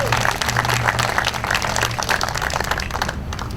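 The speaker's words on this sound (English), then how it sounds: "I wanted to give you a round of applause for those actions over the last year." Audience applause at a political endorsement event held by a conservation voters league, loud and close with many hands clapping in a dense, continuous roar and some crowd murmur underneath.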